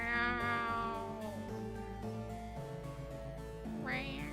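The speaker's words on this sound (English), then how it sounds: "It was just kind of an angry cat." An angry cat meows in long, drawn-out wails, loud and close, several sustained yowls with shifting pitch and a rising cry at the end, with no one talking.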